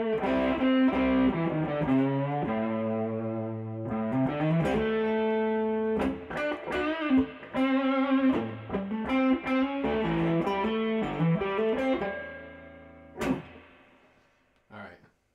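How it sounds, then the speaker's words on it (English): Electric guitar played through an MXR Super Badass Distortion pedal, with thick sustained distorted chords and single-note riffs close up, ringing on and off before a final strum and a short pause. "The MXR Super Badass Distortion pedal,"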